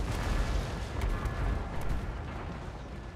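Continuous rumbling battlefield barrage of mortar fire in Total War: Warhammer 2, with dense overlapping booms and distant explosions rolling steadily throughout, no voices present.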